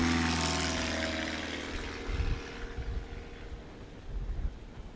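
A STOL airplane taking off at a Pony Express STOL competition, its propeller engine roaring loud and steady at first, then easing off into rougher, gusty rumbling as it pulls away.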